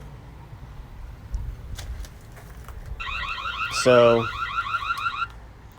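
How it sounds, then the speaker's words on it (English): A Reolink security camera's siren blares up close, a rising electronic wail with a pulsing warble that swells loud for a couple of seconds and then fades, after a brief spoken word. "there's the siren, which if I turn on, you might be able to hear it."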